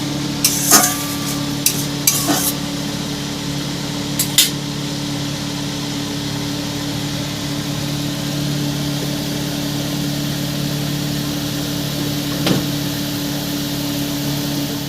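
A Bengali sour curry of fried hilsa fish head simmers in a pan, a steady low bubbling hiss under a constant hum, with a few sharp utensil clicks early on and no talking.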